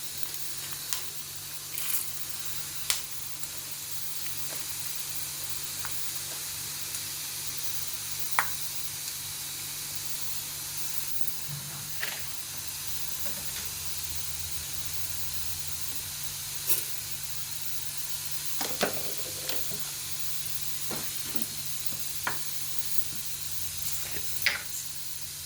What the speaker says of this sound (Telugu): ధనియాలు వేసేస్తున్నాను.